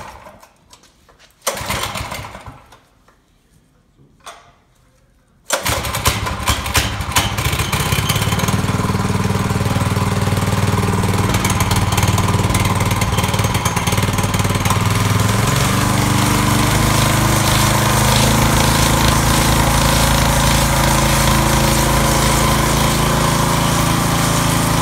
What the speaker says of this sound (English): We're gonna run it here and show you that it works.